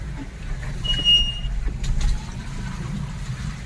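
A Tata Punch car driving on a wet road in the rainy season, with a low, steady engine hum and road rumble, a brief high beep partway through, and no talking.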